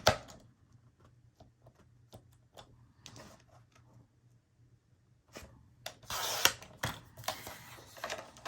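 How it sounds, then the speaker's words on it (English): Paper being cut into rows for a boho baby scrapbook album: quiet ticking snips and scraping strokes, then a louder rustling, rasping stretch near the end, with no voices. "Now we can cut off that first row."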